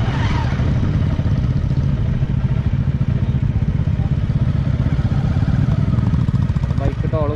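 Motorcycles on an Uttar Pradesh road near Noida and Delhi give a loud, continuous engine drone with rumbling traffic and wind noise throughout.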